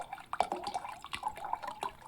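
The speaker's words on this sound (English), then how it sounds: "I'm gonna pour as slowly as I can." In the card game Card Shark, a drink trickles out in a slow pour, thin liquid splashes and drips rising and falling over about two seconds, fairly quiet and close.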